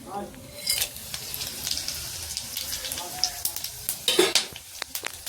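Whole spices—dried chili, cinnamon, cardamom, cloves and cumin—dropped into hot oil for a paneer curry, crackling and sizzling in short uneven bursts up close, with occasional pan clatter.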